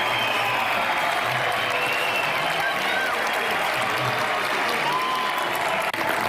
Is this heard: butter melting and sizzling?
no